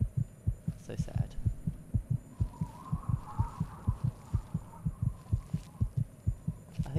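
A heavy, throbbing heartbeat from the video game Fallout 3 pounds steadily in quick double beats, low and booming beneath a faint hum, with no speech.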